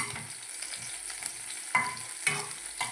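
Garlic sizzles in hot oil with cumin over a low flame for palak paneer, a soft steady crackle broken by a few sharper spatters as it is stirred.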